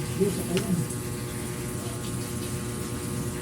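Water pours steadily into a cat's bowl, a continuous close splashing flow over a constant background hum, with no clear breaks.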